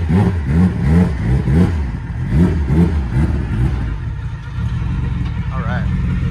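An all-wheel drive vehicle drives up and loads, its engine revving in repeated surges and then settling into a steady rumble, close and loud.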